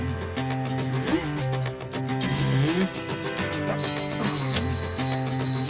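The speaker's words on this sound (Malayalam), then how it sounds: "ദേ മണിയടി ശബ്ദം" Small worship bells ring continuously at dawn in a rapid, layered jangle with sustained tones, filling the space at a steady moderate loudness without talk.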